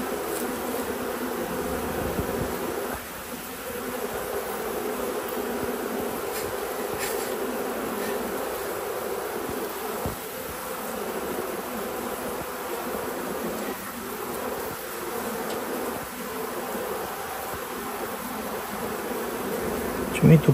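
Honey bees hum and buzz steadily at a hive, a dense continuous drone close by for the whole stretch with no speech.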